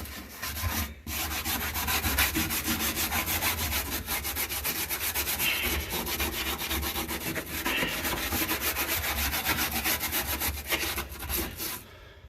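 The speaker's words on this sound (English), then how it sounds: "now that I got the whole trunk brushed out and petroleum oil soaked" Stiff brush scrubbing rust from the trunk floor of a 1964 Dodge 330 Max Wedge, a continuous close rasping scratch with rapid back-and-forth strokes for the whole stretch and a brief pause near the start.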